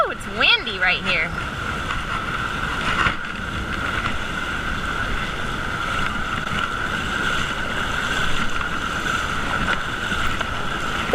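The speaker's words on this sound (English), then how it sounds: "Woo, it's windy right here." Steady wind gusts rush across a microphone while hiking through The Narrows in Zion National Park, a broad continuous roar with brief louder buffets at the start, and voices faint underneath.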